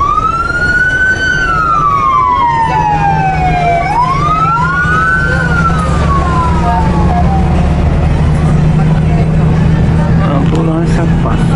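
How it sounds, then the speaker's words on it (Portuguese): An ambulance siren wails loudly on the streets of Tiberias, Israel, its pitch sweeping up and down, over heavy traffic rumble and nearby street noise. "Ambulância."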